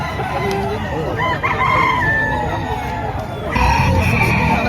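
Roosters crow loudly and repeatedly at a busy chicken market, with clucking birds and a crowd murmuring around them while people talk nearby.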